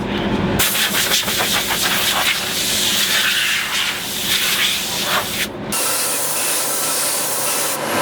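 A loud, steady hiss of a pressure sprayer blasting dust off a sanded wooden cabinet door continuously for several seconds, with a brief break and a slightly changed, quieter spray tone after.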